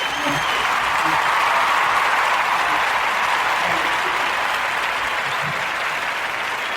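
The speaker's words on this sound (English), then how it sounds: "I got to give a warm Narrative podcast round of applause for myself." Steady applause from a crowd, a continuous even wash of clapping at constant loudness, with no voices standing out.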